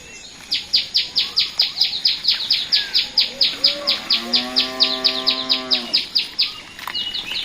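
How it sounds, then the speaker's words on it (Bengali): A tailorbird at a house gives a rapid run of sharp, repeated high chirps, loud and close, with a lower tonal call sliding beneath partway through; no one speaks. "টুনটুনি পাখি টিন টিন করতে আসছে।"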